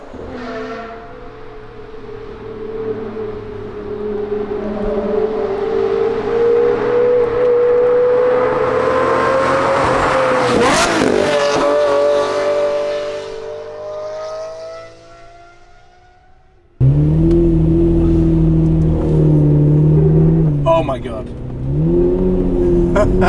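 A Lamborghini LP640 with a decatted IPE exhaust, valves open, pulls away in first gear. Its loud engine note climbs steadily in pitch, drops off briefly, then returns as a second, even louder close-up roar.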